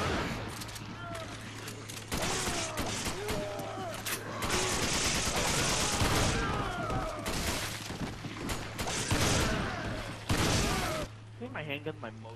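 Handgun fire in the co-op video game Resident Evil 5 cracks out in rapid, irregular bursts through the whole stretch, mixed with game effects and players chatting over the shots.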